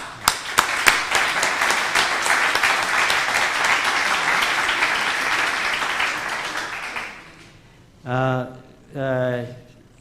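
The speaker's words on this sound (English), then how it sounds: "let's give him a round of applause" Audience applause fills a conference hall for about seven seconds, steady and fairly loud, then fades out before a voice speaks briefly twice.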